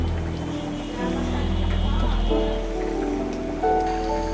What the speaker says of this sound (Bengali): বলক এসে পড়েছে, দেখেন বলক এসে পড়েছে।